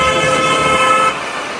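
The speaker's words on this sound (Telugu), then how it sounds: "వాడు కూడా హారన్ కొడుతాడు." A car horn honks on a road in Goa, a loud sustained toot lasting about a second over traffic noise, then fading to a steady hum of passing vehicles.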